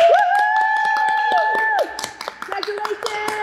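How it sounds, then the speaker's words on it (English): A church congregation claps for its graduates. The scattered hand claps are steady and moderately close, and a sustained organ-like tone carries over them before the clapping grows patchier and fades. "Let us honor our graduates with a round of applause and acclamations."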